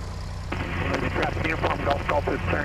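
Cessna 150 light aircraft on its takeoff roll, a steady droning engine with a continuous rumbling roar, under radio-style talk.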